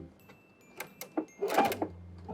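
A sewing machine slowly stitching a blind hem in fabric, a few short clattering needle strokes spaced apart, then a quicker denser burst of stitching, close and moderately loud.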